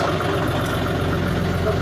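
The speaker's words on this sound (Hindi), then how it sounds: "तो आपने ट्रैक्टर को स्टार्ट करना है" A tractor engine idles in a steady, continuous drone, close and fairly loud, with no voices over it.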